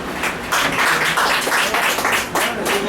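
Audience applause at a presidential debate: a dense, steady patter of many hands clapping, swelling slightly in bursts over three seconds, with faint voices mixed in.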